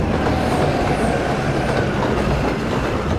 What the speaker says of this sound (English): see how the train handles close to its maximum speed